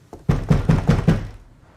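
Five firm knocks strike a door in quick, even succession, close and loud, followed by a fading resonance.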